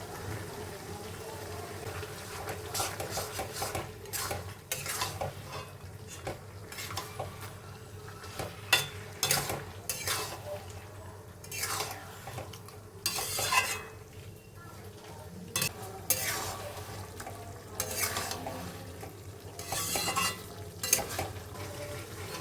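Mutton being stir-fried with spices, Kashmiri chilli powder among them, in a pan, Bengali style; soft intermittent scraping and clinks of a spatula over a faint sizzle, fairly quiet.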